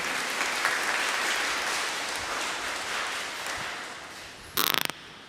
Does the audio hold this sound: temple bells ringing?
no